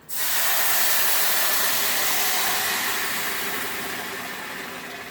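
A sudden loud hiss of water poured into a hot pan while making Mexican rice, bursting into a sustained steamy spray that slowly fades over several seconds.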